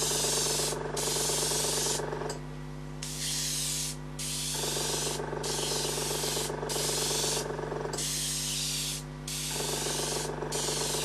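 Light flame-colour coating sprayed onto a hand-turned wooden tiger stripe dish, loud hissing bursts from a spray gun repeated in several pulses with short gaps, over a steady low mechanical hum.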